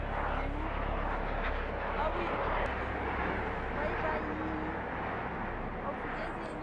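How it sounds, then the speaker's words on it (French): A helicopter flies overhead, giving a continuous broadband drone that holds steady throughout while a voice keeps talking on top of it. "Coucou l'hélicoptère."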